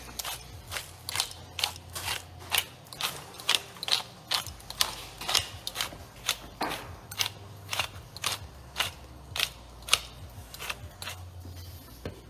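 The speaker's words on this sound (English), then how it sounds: "now I'm going to pepper my scallops with this big grind" A large pepper grinder cranks out coarse pepper over jumbo sea scallops, a steady series of crisp ratcheting clicks and crunches repeating about twice a second, close and clear with a low hum underneath.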